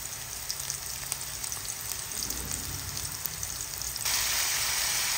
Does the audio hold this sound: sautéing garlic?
yes